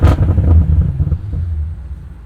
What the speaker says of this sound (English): And you can hear, with this active exhaust,